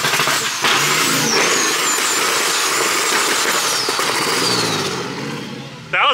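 A twin-turbo compound 4-litre Ford AU Falcon engine revs hard and loud up close in a workshop, a sustained roar with a rising whine, easing off near the end before a sudden burst.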